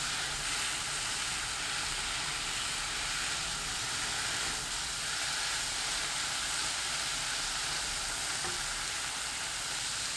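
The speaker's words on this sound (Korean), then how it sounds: "센 불로 켜고 3분 30초 볶아주세요." Kohlrabi stir-fries over high heat in perilla oil and fine salt, giving a steady, dense sizzle and hiss that holds unchanged throughout with no voices.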